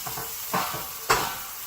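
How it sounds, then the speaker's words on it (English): Pork blade steaks fry in a hot pan with a steady close sizzle, broken twice by sharper bursts as the meat is moved or turned. "I'm going to pan fry these a little bit, just, brown them"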